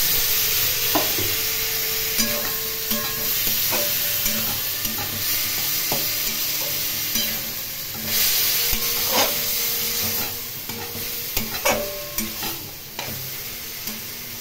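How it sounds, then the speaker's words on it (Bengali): Pumpkin and potato stir-fried in a pan with a little water, a continuous close sizzle broken by repeated spatula scrapes and knocks against the pan, with no voices. "এখন খুব ভালো করে অল্প জল দিয়ে কষিয়ে নেব"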